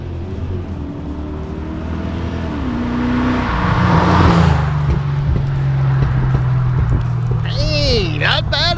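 A Fox-body car with a stock motor and AOD automatic transmission accelerates hard outdoors, its engine note rising and climbing steadily with wind noise, and a voice breaks in near the end.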